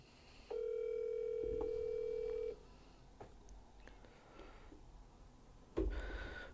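A telephone ringback tone sounds once as a steady two-second electronic ring, moderately loud, then stops into quiet room noise while the unanswered call goes on.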